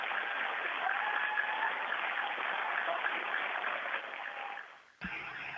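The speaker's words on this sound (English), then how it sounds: "And a round of applause as well, please." Audience applause at the National Space Centre in Leicester, a dense, even patter of clapping for about five seconds that fades and then cuts off abruptly.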